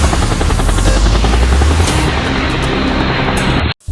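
Helicopter rotor roar from a horror video game, a loud, dense, steady wash of noise that runs for several seconds and then cuts off abruptly as the aircraft goes down.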